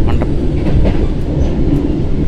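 A steady, loud rumble of the Progo economy passenger train rolling along the rails in Indonesia, with faint rhythmic clicks over continuous wheel noise.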